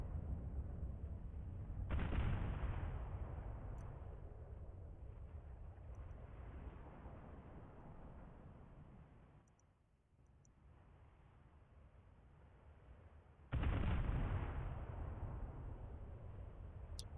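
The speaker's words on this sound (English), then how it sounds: "The explosions on ships." Ship explosions and gunfire in a naval video game form a dense, sustained roaring rumble. It swells abruptly twice and briefly dips in between, with no talking over it.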